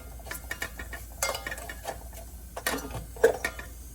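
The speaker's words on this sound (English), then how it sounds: "So our ghee is hot and I'm gonna add all the whole spices and mix them well" Whole spices are stirred in hot ghee in a rice cooker pot, giving soft scraping and a few light metallic clinks of a utensil at close range, quiet and intermittent.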